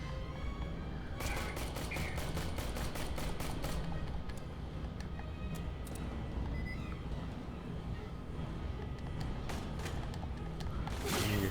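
A BB gun in ACM Stasis Interrupted fires a rapid barrage, dense runs of sharp clicking shots in bursts over a busy game background, continuing for several seconds without pause.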